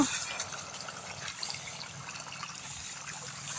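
Water pumped into a rice paddy field, a steady broadband rush and trickle of flowing water running continuously, moderately loud and close, with faint voices in the background.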